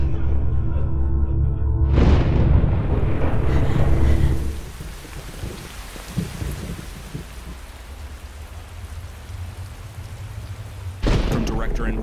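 Heavy rain pours over a thunderstorm, with a loud thunder crack in the opening seconds, then a steadier downpour and a final sharp burst of thunder near the end, within a horror film trailer.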